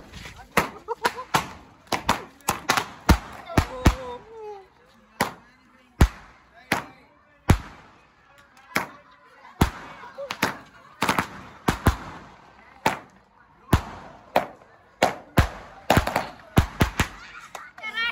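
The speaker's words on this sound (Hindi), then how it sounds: "ये भाई मुझे पटाखा यहाँ से लग कर गया ऊपर।" Firecrackers bang one after another in sharp, loud bursts at a wedding celebration, some in quick clusters and others spaced apart, with people talking and shouting between the blasts.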